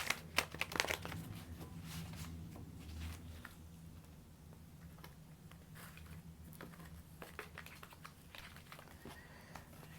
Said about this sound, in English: I gotta do another shuffle because I just messed up the cut.